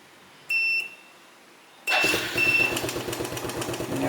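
A motorcycle fitted with an Android smartkey system chirps two short electronic beeps, then after a pause the starter whirs and the engine catches and settles into a steady, rapid idle close by.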